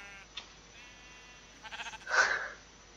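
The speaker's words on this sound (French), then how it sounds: "Ah, le mouton." A Minecraft sheep gives a short wavering bleat, fairly faint, after a few soft clicks and game noises in a quiet swamp setting, with no talking over it.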